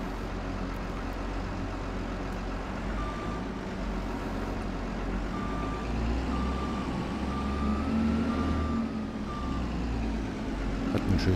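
A modded Case vehicle in Farming Simulator 22 sounds steady reversing beeps in short, evenly repeated tones over a low, constant engine hum, with no talking.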